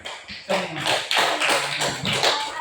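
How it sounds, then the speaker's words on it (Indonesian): Applause for a group during a session: a burst of hand clapping that swells in uneven waves for about two and a half seconds, close and fairly loud. "Yang pada sesi ini kita berikan aplaus kepada kelompok 3."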